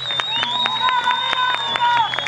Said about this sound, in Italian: Facciamo un applauso forte